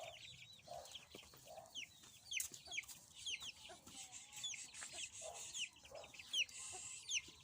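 Village hens cluck softly and newly hatched chicks peep in quick high chirps, scattered and continuous at a low, close level.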